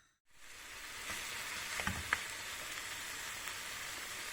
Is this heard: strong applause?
no